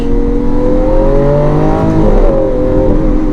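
Lamborghini Aventador LP700-4 Pirelli Edition accelerating hard, its engine note climbing loud and close, then a brief dip and resettle at the gear change before pulling again; no talk.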